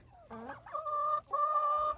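Chickens in a backyard coop area, with a close, clear run of vocal clucks and drawn-out calls stretching over two seconds and no talking over them.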